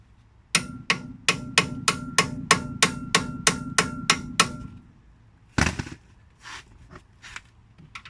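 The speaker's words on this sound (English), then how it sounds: "I always hammer this on to get a good grip." A dozen sharp metallic hammer strikes drive a wrench onto a nut on a 1974 Chevrolet front suspension in a quick, even rhythm, then a pause and a few scattered knocks and clanks.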